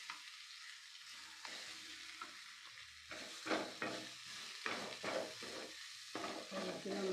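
Onions sauté in a pan for a homestyle squid curry, giving a steady close sizzle with stirring bursts and scrapes that grow louder in the second half, no talking.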